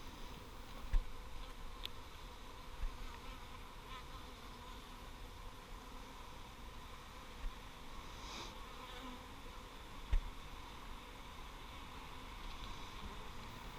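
Honey bees humming around an open beehive frame after a swarm, a faint, even drone throughout with a few small knocks, no voices.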